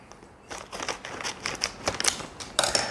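A bag of chocolate chip cookie mix is snipped open across the top, giving a series of short crisp cuts and crinkles of the packaging, close and fairly quiet, with no talking.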